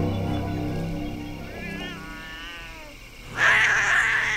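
Cats in an island alley let out a drawn-out wavering meow, then a sharp, louder caterwaul near the end, heard over a low steady background hum.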